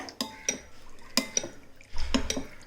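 A spoon stirring milk as it comes to a boil in a pot while making custard, giving sharp metallic clinks against the pot in irregular bursts, with a low bubbling rumble near the end.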